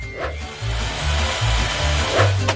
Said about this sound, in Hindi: मैं यहाँ सब ड्रिल करूंगी।